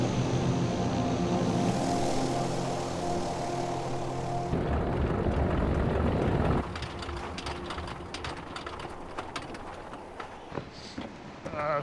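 A Curtiss C-46 propeller aircraft landing in 40-below cold, its loud droning engines holding steady before dropping into a rougher, rattling roar with the ground clatter of touchdown and rollout.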